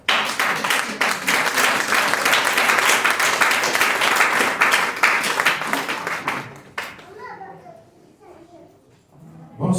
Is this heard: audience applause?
yes